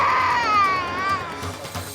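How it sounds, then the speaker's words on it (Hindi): An infant wails in a long, rising and falling cry, loud and close, with a thin background hum and no talking. "बच्चे की रोने की आवाज"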